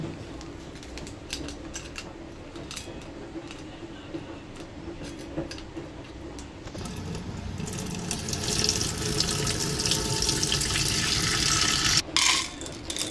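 Tap water running over soup ingredients being washed in a sink, a steady splashing stream that grows louder and more forceful partway through, with no talk.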